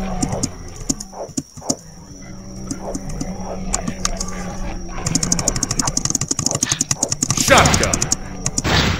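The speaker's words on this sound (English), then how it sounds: "Shotgun." In a zombie video game, a shotgun fires a few sharp, punchy blasts, followed by a run of quick repeated shots, with talking going on underneath.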